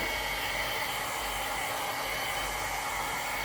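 A hair dryer blows on a dog's coat, giving a steady, loud, unbroken rush of air that fills the whole stretch with no voices.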